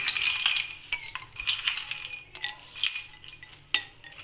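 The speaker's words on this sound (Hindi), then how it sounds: "और इसमें आइस क्यूब डालेंगे।" Ice cubes clink and rattle into a glass of tamarind and plum sharbat, a series of close, bright chinks over a few seconds with no talking.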